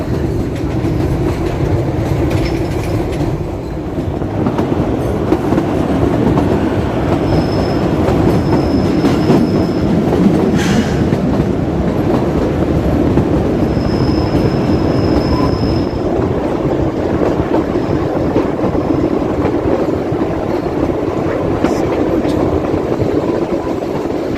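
The Kalka–Shimla toy train rumbles steadily through a mountain tunnel with a loud, continuous roar and wheel clatter, and a few high metallic squeals.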